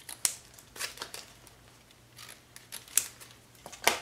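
Scissors snipping off pieces for a toilet paper snowman craft, a few crisp separate cuts spread out over quiet background with faint paper rustling, no talking.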